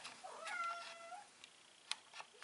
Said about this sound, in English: If you hear the cat, he is hungry.